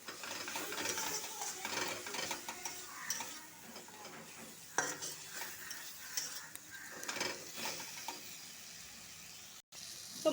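Turmeric and chili powder are stir-fried with radish in a pan, giving a constant soft sizzle broken by scraping and stirring strokes of a spoon, close and steady, with no speech.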